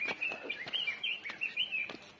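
Birds singing in a quiet village near Darjeeling during the monsoon, a few clear chirping and warbling calls close by over a soft, still background, with no talk.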